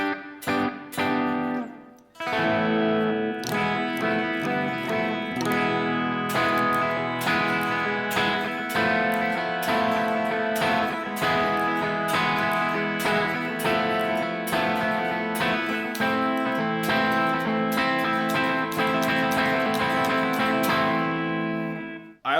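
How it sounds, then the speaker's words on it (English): Clean, dry electric guitar through a Marshall JCM800 amp plug-in with just a touch of room-like reverb, a continuous run of picked notes and chords played alone after a brief pause. "The next one is a clean, dry, super dry, just a little bit of reverb"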